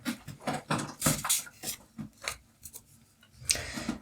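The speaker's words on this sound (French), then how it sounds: "Vous entendez du bruit, c'est mon chat qui vient s'étirer sur son arbre à chat." A cat stretching and scratching on its cat tree indoors: soft, irregular rasping and scraping strokes of claws on the post, faint and close, in short uneven bursts with no voices.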